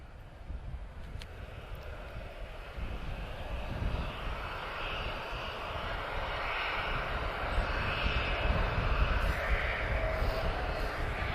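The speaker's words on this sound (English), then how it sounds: "Embraer 190 LR from Zurich. And he's just about to touch down now." An Embraer 190 LR airliner from Zurich touching down at Lisbon Airport, a broad steady jet roar that swells gradually, heard from a distance with wind in the microphone and no talk.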